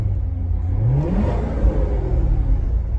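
A 2017 Corvette's engine is revved from inside the car, giving a deep rumbling idle with one rising rev sweep and further throttle blips, loud and close.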